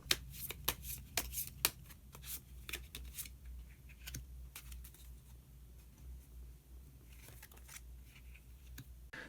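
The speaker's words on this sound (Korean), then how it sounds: "마지막으로 히든 카드 한 장 더 뽑아보도록 하겠습니다" Tarot cards are handled and a hidden card is drawn from the deck: quick, crisp papery snaps and riffles close up at first, then softer, quieter rustling of cards.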